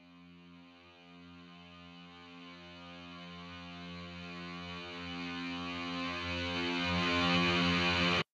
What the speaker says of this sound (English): these are two guitars that I recorded and then I flipped them around to make them build up into the note when I hit it